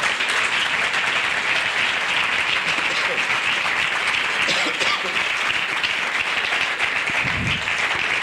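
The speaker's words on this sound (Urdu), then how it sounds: "کیا آپ روح القدس کے لیے تالیاں بجائیں گے؟" A church congregation at a Pentecost service claps loudly and continuously, a thick unbroken roar of hands filling the room from start to finish, with a low thump near the end.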